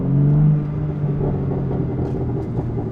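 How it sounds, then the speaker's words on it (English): A BMW G80 M3 with the S58 engine idles while warming up, a steady low exhaust rumble heard close and continuous with a slight swell at the start. "the car was idling for a little bit, so it is getting warmer on temperature"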